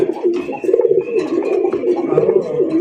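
Several pigeons coo close by in soft, overlapping throaty burbles that roll on continuously.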